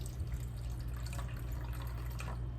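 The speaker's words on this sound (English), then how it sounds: "You're just going to pour your water in." Water is poured into a small container for cleaning nail tools, a brief, steady liquid trickle heard close up over a low hum.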